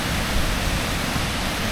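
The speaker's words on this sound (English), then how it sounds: "looking directly at the waterfall down there" Waterfall at Harmby in Yorkshire, a steady broadband rush of falling water that stays even and constant throughout, heard from a moderate distance with no voices over it.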